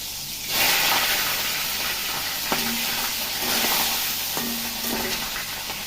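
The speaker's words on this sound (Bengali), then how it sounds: "তেলটা ভালোই গরম হয়েছে, এই কপিগুলো ভেজে নেবো" Cauliflower pieces frying in hot, lightly salted oil give a steady hiss and sizzle close by, with a few brief clinks and knocks from the pan along the way.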